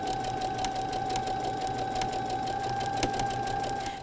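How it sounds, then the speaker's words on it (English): Domestic sewing machine stitching a quilt square corner to corner, a steady fast whirring hum with a faint tonal whine and small periodic clicks, close and continuous with no talk. "now I'm going to stitch from corner to corner to add this unit to the corner of my background square"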